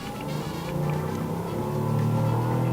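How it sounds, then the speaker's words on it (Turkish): Engine hum inside the cabin of a Mercedes-Maybach S600 held at 5000 rpm, a smooth, steady, muffled drone that swells slightly over a few seconds, with no talk. "5000 devirdeki arabanın içindeki sesi çok iyi şu an"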